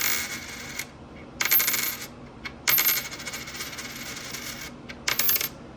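A 1975 Denver nickel is set down on a table several times, giving short bright metallic rings in separate bursts over a low background hum.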